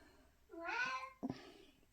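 A house cat gives one clear, fairly loud meow, followed by a shorter second call, close to the microphone with no talk.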